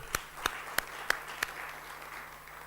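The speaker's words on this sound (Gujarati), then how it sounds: "તો પ્રમુખશ્રીઓને તાળીઓથી ગગડાવે" Brief burst of audience applause at the PLEXPO plastics expo launch function, a handful of sharp claps standing out over a diffuse crowd patter that fades after a second and a half, moderately faint and without speech.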